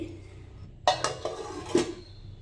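Semolina (upma rava) dough being mixed smoothly in a bowl, heard as a few close clinks and scrapes of a utensil against the bowl in an irregular pattern, with no talking.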